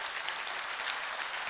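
Loud, steady applause from an audience at a Jain religious gathering fills the whole stretch, a dense wash of clapping without pause.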